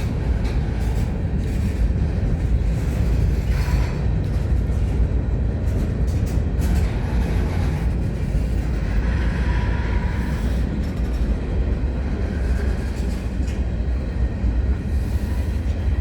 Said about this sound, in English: So this train is going into Sarnia, so that's where it'll terminate.